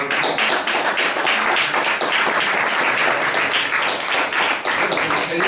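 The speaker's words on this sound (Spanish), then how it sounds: "Un aplauso." An audience at an annual memorial award ceremony applauds. The dense, loud clapping runs continuously with no pauses, close and full.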